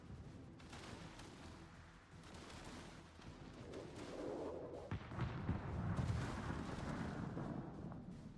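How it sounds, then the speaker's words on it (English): Naval gunfire in the warship battle video game World of Warships, repeated deep booming salvos and rumbling impacts, fairly quiet and continuous. "they're continuing to blind fire his exact position"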